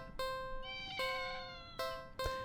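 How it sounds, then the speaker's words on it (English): A cat in a video game meows several times in short, clear, tonal calls separated by brief pauses, each call standing alone over a quiet background. "It's an interesting looking cat."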